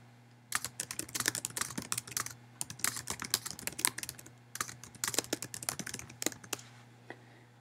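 Fingers typing on a computer keyboard, quick irregular bursts of close, crisp key clicks with short pauses between words, steady hum underneath.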